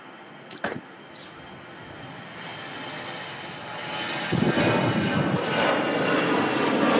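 A Lufthansa Airbus A320 jet departs for Munich, its engine roar building from a distant hum to a louder, sustained rush, with a couple of brief sharp bumps near the start.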